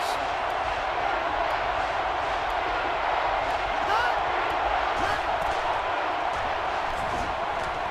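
Stadium crowd noise from the NCAA Football 13 video game, USC at Oregon, roars as a loud, dense, unbroken wall of sound across the whole stretch, with faint cheering swells and no distinct voices above it.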